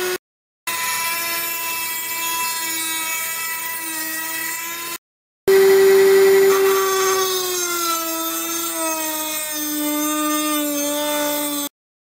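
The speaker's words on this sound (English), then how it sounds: "we're just going to very gently cut a slot into the bolt" High-pitched whining cutting tool grinding a slot into a security bolt on a Citroen or Peugeot engine control unit, loud and sustained in two long passes with a short stop between, its pitch shifting under load.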